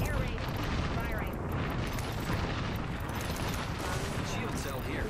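Dense, continuous roar of explosive booms and gunfire from an air raid artillery strike in a battle royale shooter, steady and loud throughout with a voice faintly underneath.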